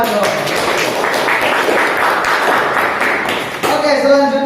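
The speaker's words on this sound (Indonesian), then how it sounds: "Tepuk tangan dong." Children in a classroom clap together in a steady, dense burst that fills most of the moment, loud and close, with a brief dip before the clapping picks up again.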